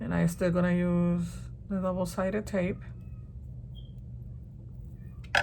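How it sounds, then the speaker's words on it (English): A cat meows a few times nearby, its drawn-out cries mixed in with a person speaking. Quieter room noise follows. "If you can hear a cat meowing"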